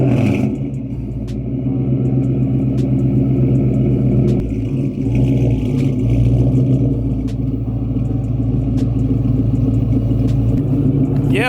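A 1999–2004 New Edge Ford Mustang GT idles steadily while rolling slowly off a pile of roofing shingles on newly fitted large tires, with a constant engine rumble broken by scattered crunches and clacks.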